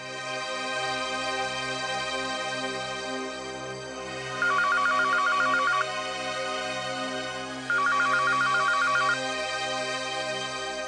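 An unanswered phone ringtone sounds in two short bursts separated by a pause, clear and close over a low steady background hum.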